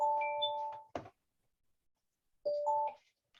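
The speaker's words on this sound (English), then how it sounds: "it's like the phone starts ringing for some reason." Telephone ringing nearby as two short electronic tone bursts, separated by a sharp knock and a pause of near silence.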